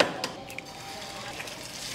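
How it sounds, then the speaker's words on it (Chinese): An egg fries in a pan at a Korean restaurant in Busan, giving a close, steady sizzle with a few light clicks of utensils. "我觉得自己煎蛋这点蛮特别的。"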